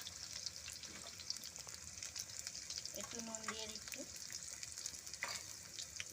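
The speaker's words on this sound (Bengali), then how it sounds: "ভাজা ভাজা করে নিচ্ছি আলুটা" Potato pieces fry in a pan with a continuous close sizzle and crackle, a few utensil clinks partway through, as a quiet voice speaks briefly over the cooking noise.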